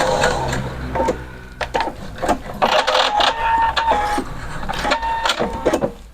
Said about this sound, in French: On laisse l'aiguille planter, on pivote, on termine la couture, on fait un point d'arrêt